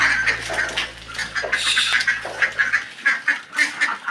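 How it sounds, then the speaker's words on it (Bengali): A flock of ducks quacks as it heads out to a pond. The calls are loud, close and overlapping, with a low hum under the first part. "দেখতে পাচ্ছেন হাঁসগুলো বেরিয়ে যাচ্ছে পুকুরে।"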